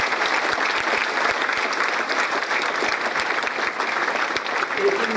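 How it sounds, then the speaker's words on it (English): Thunderous audience applause in a lecture hall for children who performed at a national-level competition. Dense, loud and continuous clapping fills the clip, with a few sharper claps standing out. "Definitely deserves a thunderous applause for them."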